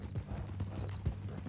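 Horse hooves in Red Dead Redemption, a clip-clop of steady, soft hoofbeats with faint creaking tack, fairly close but quiet.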